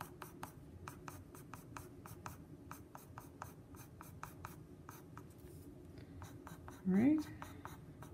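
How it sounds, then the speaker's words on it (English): Pencil strokes drawing a chinchilla's fur on paper, a steady run of quick, close scratchy strokes in even rhythm, with a voice speaking briefly near the end. "I'm gonna keep all my pencil strokes going in the same direction"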